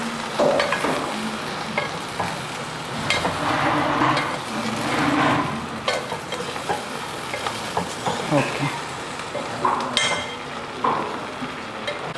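Okra pulusu, a tangy tamarind-based okra stew, being stirred in a pan on the stove, with steady scraping and stirring under a soft sizzle for several seconds, plus a few louder clinks of the spoon against the pan.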